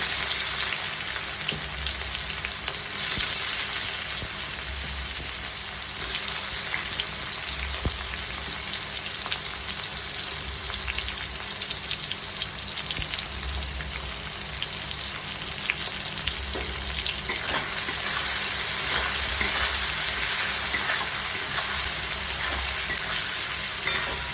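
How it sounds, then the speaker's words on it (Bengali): Onions sizzle steadily in hot oil tempered with cumin seeds and bay leaves, the start of a spicy chicken curry; a continuous, close, even frying hiss with no talk. "পেঁয়াজটা ভাজা হতে হতে আমি মশলাগুলো পেস্ট করে নেব"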